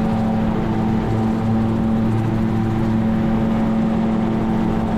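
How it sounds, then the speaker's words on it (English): A turbocharged gyrocopter engine drones loud and close during its takeoff climb at Hana Airport, Maui, a steady tonal hum with a strong low pitch and rotor-driven rumble that never lets up. "right now, we're building up airspeed, rotor head RPMs are increasing, and off we go"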